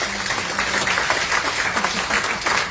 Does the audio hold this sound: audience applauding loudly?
yes